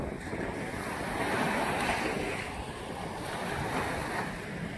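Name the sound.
ocean waves breaking on Haeundae beach, Busan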